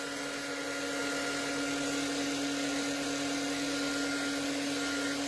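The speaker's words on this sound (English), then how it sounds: "buying the heat tool from Tim Holtz just because it doesn't sound as loud as this one" An embossing heat tool running at close range: a loud, continuous whining fan drone with a steady tonal hum and broad airy hiss, unchanging throughout with no talk.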